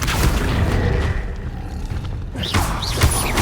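Heavy booming fire blasts of the Confringo spell during a spell-casting fight in Hogwarts Legacy, repeated thuds and rumbling impacts with whooshing magic effects and game clatter, loud and dense throughout.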